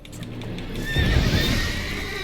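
Geralt's horse Roach in The Witcher 3 gives a single close neigh over a soft clip-clop of hooves, the whinny rising and wavering for about a second.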